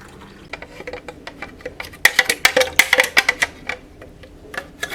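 Warm water mixed with EM-1 effective micro-organisms poured into a 2 litre container, a quiet trickle that turns into a run of close, bright clicking gurgles and splashes midway, then tapers to scattered drips.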